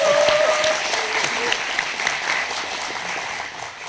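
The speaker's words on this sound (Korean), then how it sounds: "큰 박수 한번 보내주십시오." Sustained applause from a ceremony audience at the launch event of a Korean special self-governing provinces council, a dense steady clatter of many hands filling the room and tapering slightly toward the end.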